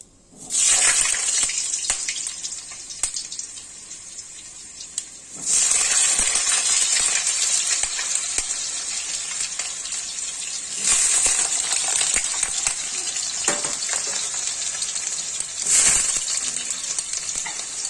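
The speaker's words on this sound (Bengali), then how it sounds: "এই যে কেটে ধুয়ে রাখা আলু এখন ছেড়ে দিলাম।" Cut, washed potatoes dropped into hot oil in a pan for a potato, eggplant and spinach curry, setting off a loud, steady sizzle and crackle close by, with bursts of stronger spitting as more pieces go in.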